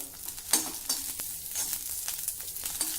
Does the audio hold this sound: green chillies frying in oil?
yes